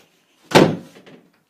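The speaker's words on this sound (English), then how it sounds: "Don't slam the door." A door slams shut in a home at night, one sharp, loud bang followed by a short rattling decay, then quiet.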